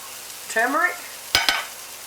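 Onion frying in a pan with turmeric, ground cardamom and coriander gives a low background sizzle, broken by a squeaky utensil scrape and then two sharp knocks against the pan.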